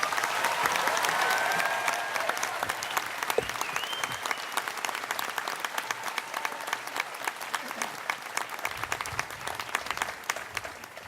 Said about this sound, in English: Please give our graduates a well-deserving round of applause.